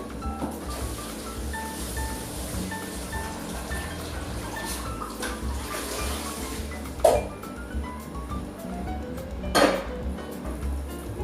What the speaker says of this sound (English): And then drain off the broccoli.